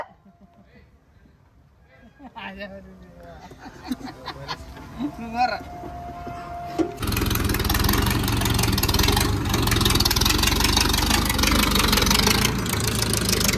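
A tractor engine idles faintly under people talking, then roars up loud and steady, holding a dense, continuous rumble to the end.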